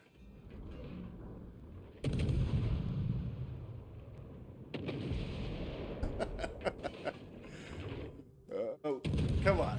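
Shells fired in a video game: booming cannon blasts and rumbling impacts with mechanical clatter, loud and repeated, with a voice talking over them.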